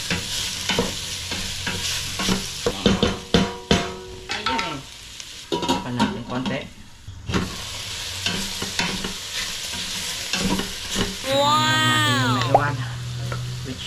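Intestines sizzle and crackle in a hot pan while a utensil stirs and scrapes through them in uneven bursts, up close, during cooking of Filipino pinapaitan.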